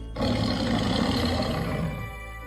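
A tiger gives a single loud, sustained roar that swells quickly and fades over about two seconds, heard alone with no voices over it.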